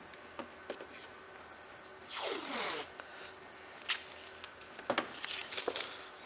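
Adhesive tape is pulled off and pressed down while mounting a GoPro on a motorcycle fender. A long ripping sweep sits in the middle, with scattered taps and crinkles around it, close up and without voices.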